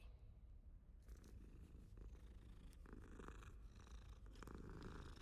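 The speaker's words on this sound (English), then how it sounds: "It's a cat." A cat in Hogwarts Legacy purrs softly and steadily, close by under a continuous wash of ambient game noise, with no talk.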